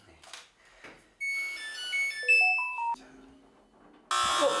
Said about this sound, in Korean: 집안이 떠나가라고 울리는 알람음.